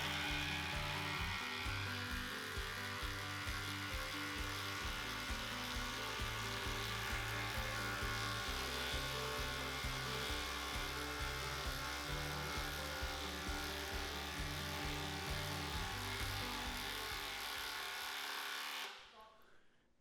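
A Milwaukee cordless drill runs continuously under load in a speed test, a steady loud whirring grind with a rhythmic pulse, stopping abruptly near the end.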